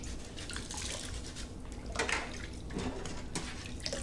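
Soapy water sloshes and splashes as a trumpet valve slide is rinsed, a steady close wet wash with a few brief drips and swells, with no talking.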